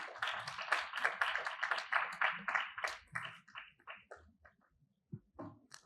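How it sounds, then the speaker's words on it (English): Applause from the audience at a UNICEF event in Lagos, a burst of many hands clapping that stays dense at first, then thins into scattered claps and fades out. "A round of applause, please"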